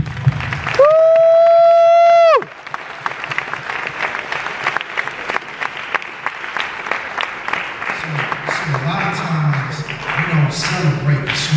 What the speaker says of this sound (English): give yourself a round of applause for being a student at one of the most prestigious high